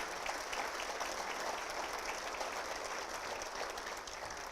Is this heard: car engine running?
no